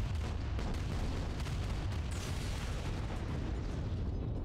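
Loud, continuous shooting and explosions rumble through a 1995 Westwood Studios Command & Conquer battle, dense booms and pops layered into a steady roar with no talking.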